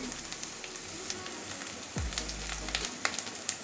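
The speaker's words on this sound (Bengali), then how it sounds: "পেঁয়াজের কালারটা একটু চেঞ্জ হবে আর একটু ভাজবো" Onions frying in a pan with turmeric, a steady close sizzle that runs unbroken, with a low hum entering partway and a few light clinks of stirring.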